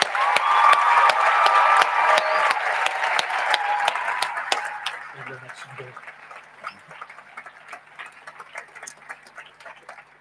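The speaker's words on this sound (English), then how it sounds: "let's join together and give them a huge round of applause" An audience in a hall applauds prize winners on stage at a school speech day, with dense, loud clapping for about five seconds that then thins to scattered claps.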